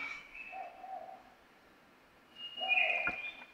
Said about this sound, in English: So this is going to be a male and a female hooting.